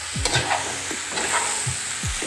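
Stingray pieces cooking with coconut milk are stirred in a pan under a steady close sizzle, with a few soft scraping sweeps of the utensil spaced through it and no talking.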